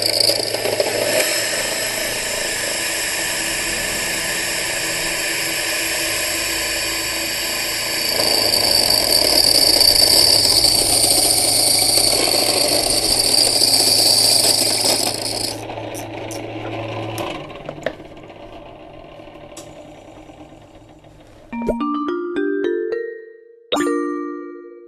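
A flour mill grinder machine runs with a loud, steady motor whine and a raspy grinding roar, then spins down and cuts off, followed by a few sharp metallic clinks and rings.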